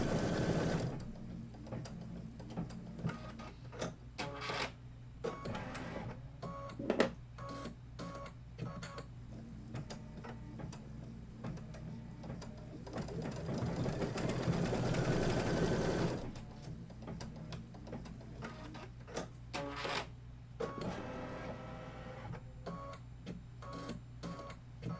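Sewing machine stitching quilt fabric for a Kimberbell autumn quilt, a steady close mechanical whir running throughout with short pauses and a brief louder, faster burst midway, no talking.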